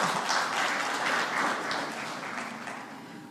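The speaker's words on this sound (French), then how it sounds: "Je crois que cela mérite des applaudissements." Sustained audience applause at the opening ceremony of the Afreximbank trade finance seminar, a dense crowd clapping that starts full and slowly fades over a few seconds.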